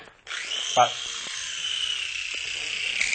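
Picco Z toy helicopter rotor spinning up for launch, a steady high-pitched electric whine that starts abruptly, holds level for about three seconds and brightens slightly near the end, with a brief click partway through.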